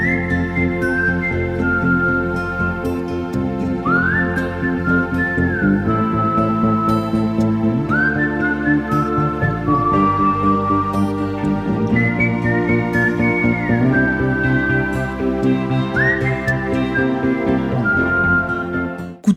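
Melodic whistling carries a tune over orchestral accompaniment in the soundtrack of the 1979 French film Coup de tête, bright sustained notes gliding between phrases, loud and continuous without speech.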